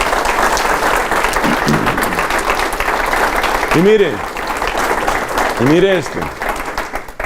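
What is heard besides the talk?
audience applause in church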